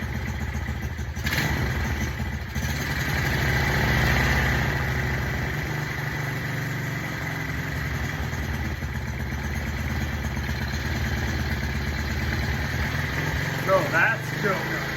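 An SSR110 pit bike engine runs in neutral with the choke on. It holds a steady, close putter and idle throughout, with a brief mechanical rattle near the end.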